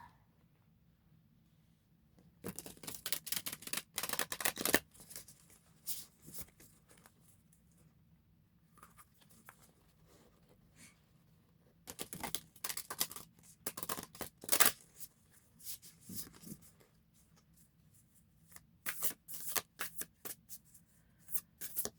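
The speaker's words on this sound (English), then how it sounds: "Shuffling is the best part." Tarot cards being shuffled by hand give several bursts of crisp riffling and flicking, each lasting a second or two, with quiet pauses between them.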